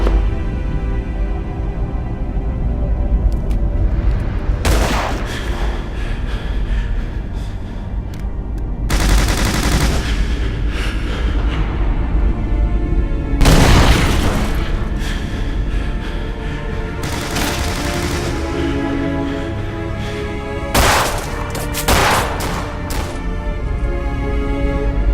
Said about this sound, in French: on me tire dessus là!